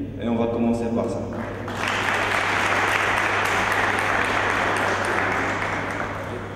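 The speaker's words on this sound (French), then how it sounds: "je vous demande d'applaudir très fort cette équipe" Strong audience applause at a debate event in Casablanca, breaking out after a moment of speech and continuing as dense, loud clapping from a large crowd over a steady low hum.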